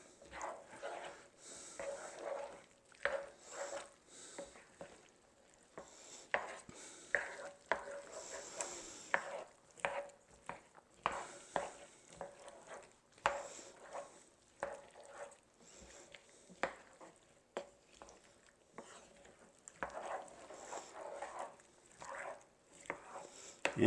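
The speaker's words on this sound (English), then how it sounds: "It's just a matter of stirring it together." Chunky salsa ingredients stirred together in a pot with a spoon, giving soft scraping and wet squelching strokes in an irregular rhythm, close but fairly quiet with no talking.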